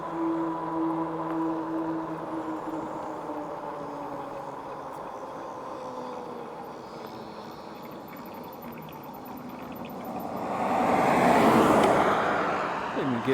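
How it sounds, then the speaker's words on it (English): Road traffic heard while riding a Magicycle Deer e-bike, a steady drone of engines and tire noise with a nearer vehicle swelling past toward the end, and no speech. "Yeah, the traffic's not too bad today."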